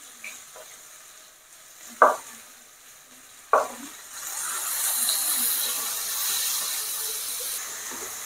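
Thinly sliced onions hit hot oil with mustard seeds for an egg gravy. Two sharp clanks come first, then a steady sizzling hiss that swells and holds up close.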